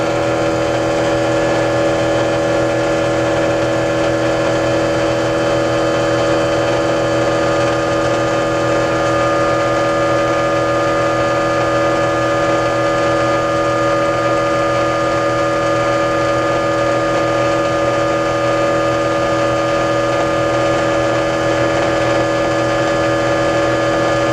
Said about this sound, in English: I didn't hear any slowdown of the motor